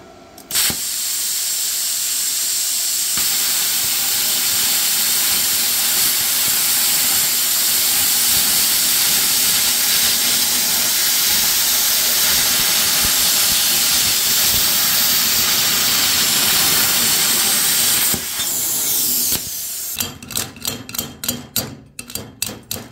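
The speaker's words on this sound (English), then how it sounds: "once I hit the trigger and release, the arc is going to be established, and we're just going to keep going in the line" Arccaptain Cut55LED 55 amp plasma cutter slicing through sheet metal, a loud, steady roaring hiss that holds for nearly twenty seconds after the arc strikes, then breaks into rapid sputtering pulses as the cut ends.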